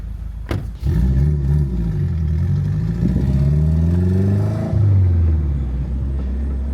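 Side-exit exhaust on a 550whp Subaru WRX roars loud and close under hard acceleration, a sharp crack at the start before rising engine tones climb steadily, with a brief shift dip near the end before pulling again.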